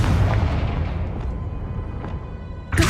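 Confringo fire spell explosions in Hogwarts Legacy, a deep booming blast rolling out at the start, then fainter thumps and a sharp burst at the end.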